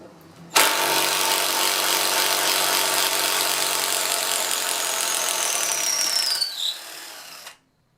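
A ToolPRO cordless impact driver runs continuously for about seven seconds backing out a fastener, a loud, close high-pitched motor whine with rapid hammering buzz that rises in pitch before spinning down and stopping abruptly.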